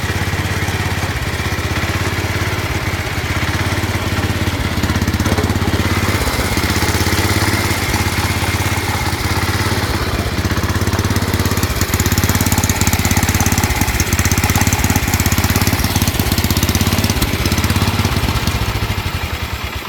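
A John Deere 10 horsepower lawn tractor engine runs close by with a steady, loud, rough drone. It has a surging idle and poor throttle.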